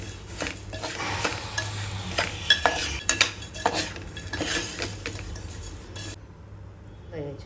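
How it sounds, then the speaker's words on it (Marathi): Poha flakes being stirred in a pan for chivda, with repeated scraping and clinking of a utensil against the metal over a soft sizzle, several sharper knocks midway, then quiet at the end. "पोहे घातल्या लगेच आपल्याला मिक्स करून घ्यायचे."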